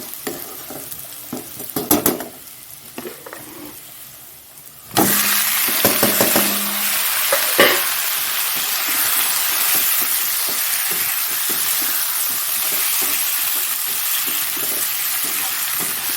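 Potatoes dropped into a pan of frying onions set off a sudden loud, sustained sizzle after a few knocks and clatters, hissing steadily and close for the rest of the stretch, no talk.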